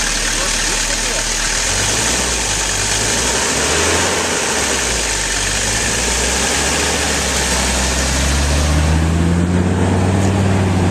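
Small motor of a homemade car idling steadily after starting, a close, continuous mid-pitched engine drone with a deeper rumble rising near the end.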